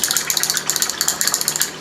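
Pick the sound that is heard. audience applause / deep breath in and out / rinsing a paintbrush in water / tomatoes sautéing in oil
rinsing a paintbrush in water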